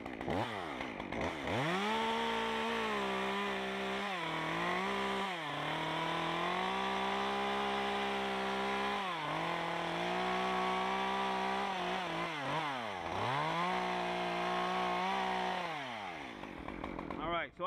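A chainsaw cuts kerf cuts into a tree branch, its engine droning loud and close throughout, pitch dipping and rising repeatedly as the chain bites into the wood and frees up.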